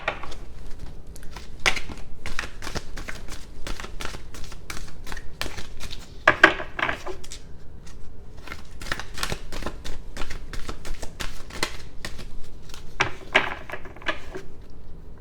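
Oversized tarot cards are shuffled by hand close up. Rapid papery riffles and slaps come in repeated bursts with brief pauses between them, at moderate loudness and with no talking.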